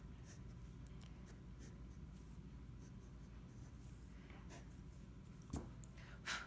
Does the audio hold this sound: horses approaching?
no